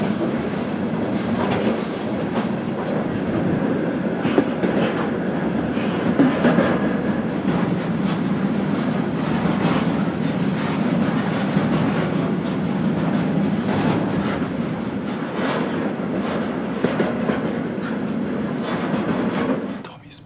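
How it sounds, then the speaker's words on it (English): Mixed steel and intermodal freight train riding toward Ulaanbaatar, Mongolia: a steady, loud rumble of rolling wagons with rattling and clickety-clack wheel beats on the rails throughout, heard close from aboard the train. "But now we caught this steel train and intermodal train, it's a mixed train"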